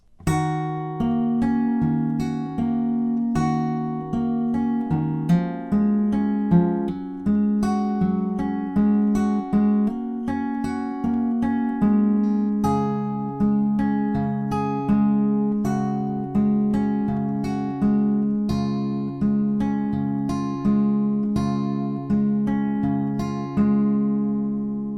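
Fingerpicked acoustic guitar plays the main riff of a song, a steady flowing run of plucked notes over low bass strings, close and clear with no voice.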